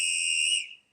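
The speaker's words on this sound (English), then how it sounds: "You got a whistle." A LEGO Crocodile Locomotive with a Powered Up motor plays its electronic whistle sound effect, a single shrill steady tone held for about half a second before quickly fading out.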